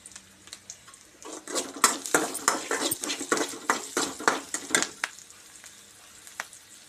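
Onions, green chillies and curry leaves sizzle and crackle in hot oil while a spoon scrapes and stirs the pan in a quick, repeated rhythm.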